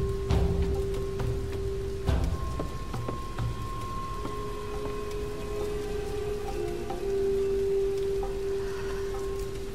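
Steady rain falls in the Tomb Raider video game, a continuous dense patter with faint tonal game sounds over it, constant and moderately loud throughout.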